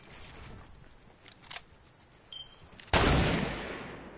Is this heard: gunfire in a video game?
yes